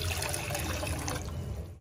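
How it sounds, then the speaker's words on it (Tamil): Water poured from a vessel into a tea pan set on a stove for masala chai, a steady broadband splashing stream that runs close and fairly loud for nearly two seconds, then stops abruptly. "தண்ணியை சேர்க்க போகிறோம்."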